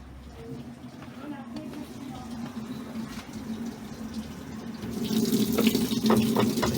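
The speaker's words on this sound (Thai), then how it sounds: "เดี๋ยวนะพอดีลืมเปิดน้ำ" Tap water runs steadily into an LG washing machine, a continuous rushing flow close to the microphone that grows louder and brighter partway through.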